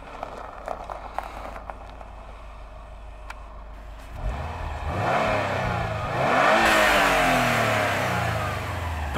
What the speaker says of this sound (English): Don't blow your engine on the first take